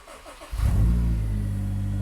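A Honda S2000 engine cranks and catches, then settles into a steady, loud idle close by after the air pump delete work, with a brief rev at startup and no talking.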